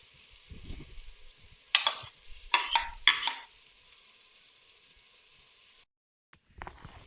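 Fried okra stirred into mutton masala in a karahi for bhindi gosht, a steady sizzle broken by a cluster of loud scraping stir strokes, then a short silence and another burst of frying.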